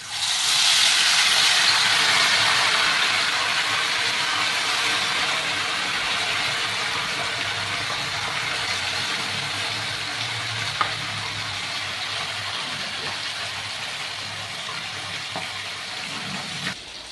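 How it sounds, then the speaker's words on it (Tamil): Marinated food fries in hot oil with a steady, bright sizzle and hiss that starts strong and eases slightly, with a few small clinks of stirring near the end. "இப்போ நான் பொரிக்க போகிறேன்"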